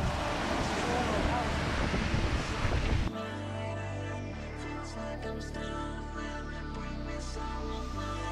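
Wind roars and buffets the microphone on a wet hilltop, a loud rough rush for the first three seconds that cuts off abruptly into a calmer tonal background.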